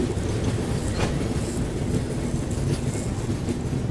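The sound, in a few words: Mandovi Express train departing Ratnagiri station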